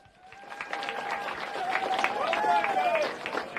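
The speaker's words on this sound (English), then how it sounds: "And the crowd goes wild." Crowd at a bagger motorcycle racing championship at Willow Springs Raceway applauding and cheering for the 2024 champion, a steady roar of clapping and whistles swelling over several seconds with an announcer's voice faintly in the mix.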